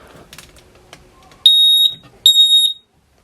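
Two loud, high-pitched electronic beeps from a smoke alarm being tested in a static caravan, each lasting about half a second, following some quiet handling noises.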